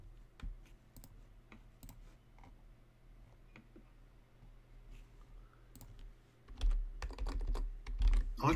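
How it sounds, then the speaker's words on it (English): Computer keyboard typing and mouse clicking during a trading session, heard as sparse, crisp taps and clicks in irregular bursts, close and fairly quiet, with some heavier thumps toward the end. "I can hear you clicking"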